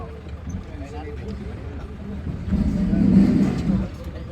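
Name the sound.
car engine revving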